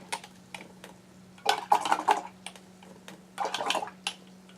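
A paintbrush swished and rinsed in a water jar during a craft session, giving two bursts of clinking, splashing agitation against the glass, close and fairly quiet.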